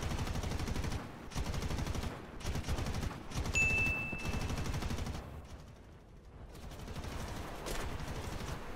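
Rapid bursts of gunfire in the video game War Thunder crackle in quick succession, with short pauses between volleys over a steady background rumble.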